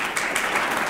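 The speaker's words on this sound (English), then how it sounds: "Let's have a round of applause for Katie Flato and the San Antonio Book Fes" A library awards ceremony audience claps in a brief, dense burst of applause, many hands close and lively throughout the second, with no voices over it.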